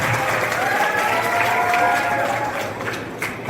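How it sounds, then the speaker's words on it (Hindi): Sustained applause from a college audience at a Vande Mataram 150th anniversary celebration at a homoeopathic medical college, dense steady clapping lasting throughout, with faint whistles or tonal cries drifting over it. "आप ताली बजाओ।"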